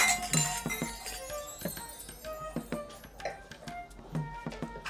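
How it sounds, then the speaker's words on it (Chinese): Glasses clink together repeatedly in a toast, a rapid scatter of bright chimes spread over several seconds, moderately close, with no talking during the clinks. "来，干杯！ 干杯！"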